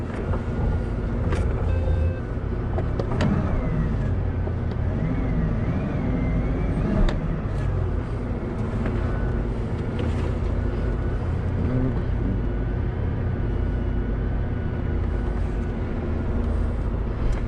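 A Bugatti Veyron supercar edges through a slow maneuver in Monaco, its engine a low, steady rumble under a busy street wash with occasional faint clicks and knocks, no speech.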